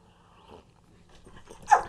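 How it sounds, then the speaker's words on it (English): A dog breathes softly nearby in faint, uneven panting that swells into a brief louder huff near the end. "So right now, my dog"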